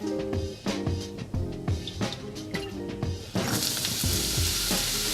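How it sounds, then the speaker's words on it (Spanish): Onion, meat and shiitake fried in vegetable oil for Japanese korokke, with rhythmic spatula taps and scrapes against the pan before a loud, steady sizzle takes over. "Ahora para freír la cebolla, la carne y los shiitakes podemos utilizar aceite vegetal o mantequilla."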